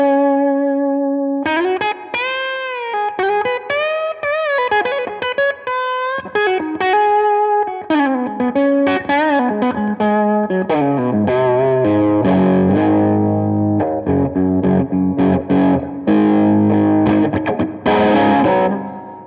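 A Gretsch Electromatic Jet Club electric guitar with humbucker pickups plays through distortion and effects, ringing single notes and riffs that build into thick, loud sustained chords, continuous for about nineteen seconds.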